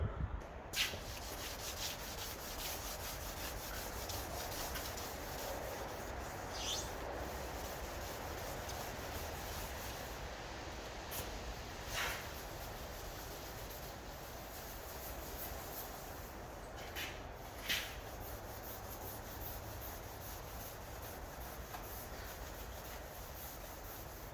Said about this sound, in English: What I'm doing now is I'm just going to key everything down so I can get these stone chips filled